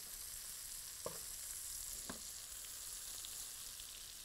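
Beef fillet basted with flavoured butter sizzles in a pan, a steady close frying hiss broken by two brief clicks or scrapes of a utensil, with no voices.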